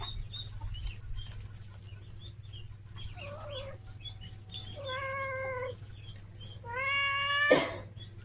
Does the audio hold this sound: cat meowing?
yes